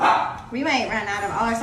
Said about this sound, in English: And you might hear my dog barking in the background.